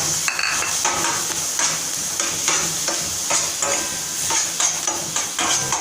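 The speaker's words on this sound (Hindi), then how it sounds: "ये मैंने अमूल मक्खन लिया है, और साथ में हम इसमें वेजिटेबल ऐड कर देंगे।" Vegetables fry loudly in Amul butter in a pan, a dense, close sizzle overlaid with repeated scraping and clinking of a spatula against the pan as they are stirred, with no talking.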